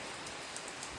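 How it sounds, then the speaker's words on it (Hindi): Heavy monsoon rain pours steadily in a broadband hiss with soft scattered patter, close and unbroken throughout, with no voices. "अभी देखो इतनी बारिश आ रही है, झम झम झम झम झम झम।"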